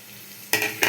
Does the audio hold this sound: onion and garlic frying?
yes